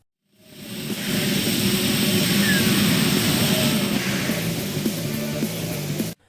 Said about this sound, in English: you'll see these red planes that swoop in and drop bombs